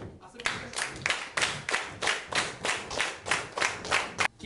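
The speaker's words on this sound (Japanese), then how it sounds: "手拍子を3でいきましょう" A group claps hands in a steady rhythmic pattern during a groove training session, about ten sharp, evenly spaced clap bursts, each swelling and fading, fairly close and moderately loud.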